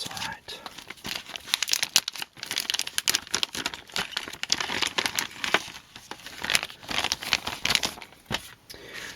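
Plastic crinkles and rustles continuously as packaging for a DeAgostini Kyosho Hummer model kit is handled and torn open, close up with irregular crackling bursts.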